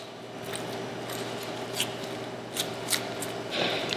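Knife trimming deer meat during home processing, soft scattered cuts and rubbing scrapes with a few sharper clicks against a steady low hum.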